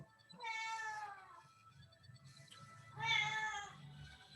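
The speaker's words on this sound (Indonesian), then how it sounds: "ada suara kucing, Dimas." A cat meows twice from close by, each call drawn out for about a second, with a quiet background between them.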